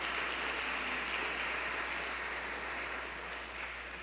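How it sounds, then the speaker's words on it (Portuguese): A church congregation applauds loudly and steadily, a dense wash of clapping from many hands that holds evenly for the whole stretch without voices. "aplauda bem forte o nome de Jesus"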